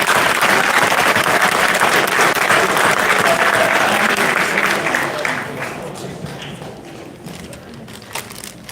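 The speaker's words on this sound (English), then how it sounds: "So he deserves a round of applause" Applause at a high school honor day ceremony for a student signing a football scholarship, dense sustained clapping from a crowd that fades gradually over several seconds.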